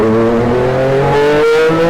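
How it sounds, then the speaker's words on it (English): An 800-horsepower Honda CR-V hybrid race car is bump started and its engine catches, a loud, close, tonal drone climbing in pitch, dipping briefly, then rising again. "we're gonna bump start it here in a second"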